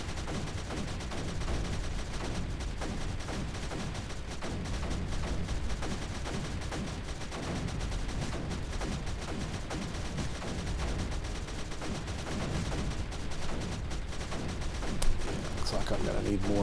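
Aircraft in a video game strafe an area with gunfire, producing a dense, continuous roar of rapid shots and rumbling impacts with a talking voice underneath.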